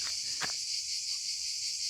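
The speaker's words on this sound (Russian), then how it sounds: "Цикады замучили, если честно." Cicadas at a campsite in the Bakhchisaray district of Crimea keep up a steady, high, shrill drone that fills the whole stretch. A brief soft rustle sounds near the start.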